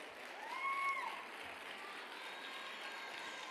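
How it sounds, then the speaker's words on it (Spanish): A carnival crowd gathered for the presentation of comparsas claps for a neighbourhood association, a faint, distant patter of applause with a brief whistle-like tone near the start. "Un aplauso también a la Asociación de Vecinos de Gaztaño."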